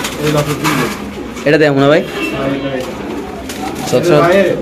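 Pigeons on a Bangladeshi pigeon farm coo in soft repeated phrases, with one louder burst standing out, while people talk over and between the calls.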